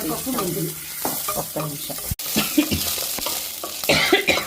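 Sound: frying urad dal, green chillies and fenugreek for tempering

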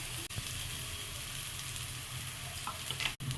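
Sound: frying ground curry leaves and roasted peanuts in oil

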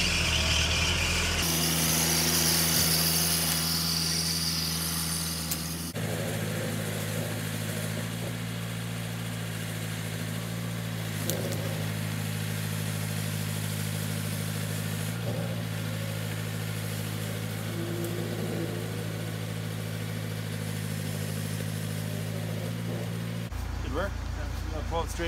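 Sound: vehicle engine running while pulling old car from barn

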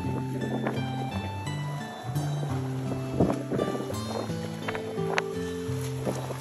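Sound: boat engine at sea

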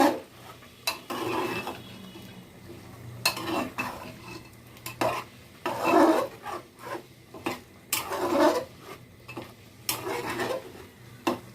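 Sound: stirring spiced meat in a pot

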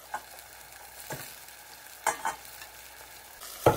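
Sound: eggplant menemen simmering and being stirred in pan

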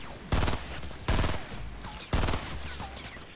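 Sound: gunfire in Fortnite video game

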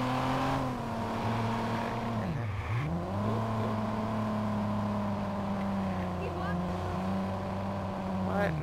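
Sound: car driving in the video game Watch Dogs

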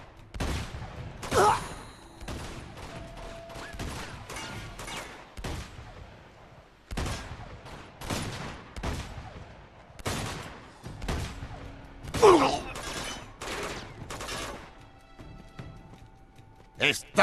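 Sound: gunfire in the video game Uncharted 2

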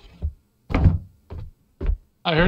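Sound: door knocking or thudding in the video game Labyrinthine

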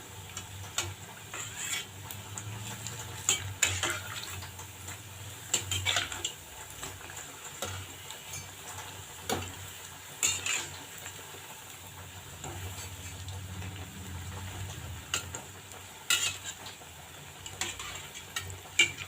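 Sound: flipping raw banana bajji frying in oil with ladle

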